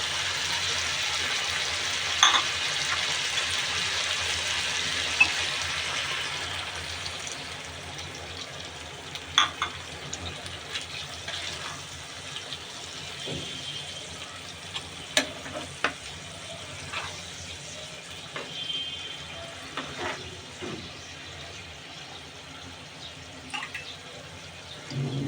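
Water is poured into a pan of sizzling chicken curry. A loud hiss and sizzle rises at first, then settles into softer bubbling with occasional clicks and stirring knocks.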